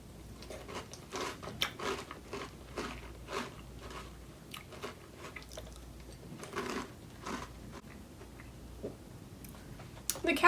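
Cap'n Crunch cereal crunched and chewed close to the mouth, a quiet run of sharp irregular bites and crunches repeating through the whole stretch.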